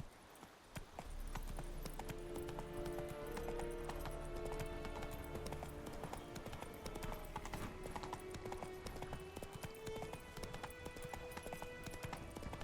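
Roach, Geralt's horse in The Witcher 3: Wild Hunt, is summoned and trots up with steady clip-clop hoofbeats and a brief whinny, held throughout over game music.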